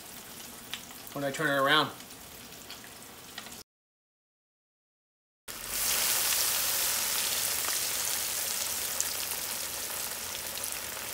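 Breaded chicken cordon bleu fries in hot oil at an outdoor cookout, a loud, steady sizzling crackle that continues after a brief spoken remark and a short gap of silence.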